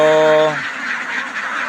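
Farm ducks quack loudly and close, a harsh honking call that breaks into noisy rasping squawks, with no voices.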